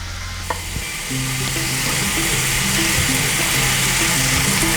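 Chicken pieces added to a hot pan with ginger and garlic for a dhaba-style chicken curry, a brief clatter followed by steady loud sizzling frying.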